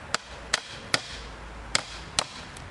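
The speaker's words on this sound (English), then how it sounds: "just line up the nail, mallet or hammer, doesn't matter" A mallet drives a nail into a plastic bandit sign outdoors in Dallas: five sharp, fairly loud knocks at uneven intervals, with no talking.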